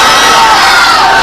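A large crowd at a religious gathering shouts loudly in unison, a dense, sustained mass of voices that fills the whole moment.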